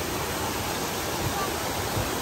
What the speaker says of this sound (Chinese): 这就是瀑布吗？